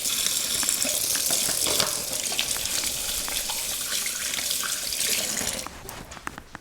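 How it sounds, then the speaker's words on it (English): A kitchen tap runs steadily as hands are rinsed after lobster prep, a loud, close, hissing stream of water splashing into a sink that drops away near the end, with no talking. "Just wash my hands a little bit."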